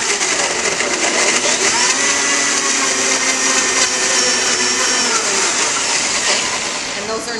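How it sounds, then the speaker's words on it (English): Blender whirring at a steady high pitch while blending strawberries for lemonade, loud and close, running continuously and easing slightly near the end, with talking faint underneath. "We've got electricity now to the blender."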